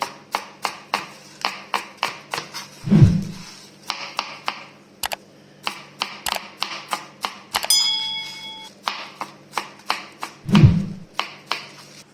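A knife chops fresh spinach on a cutting board while making a Bosnian spinach börek, with quick, evenly spaced, close cuts running steadily and a couple of heavier thuds along the way.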